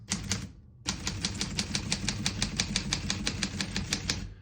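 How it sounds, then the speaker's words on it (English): Keys clack rapidly on a 1948 Corona Sterling vintage portable typewriter, a close, crisp run of evenly spaced strikes after a short pause near the start, with no talking. "We're going to keep that on single for now and finish typing."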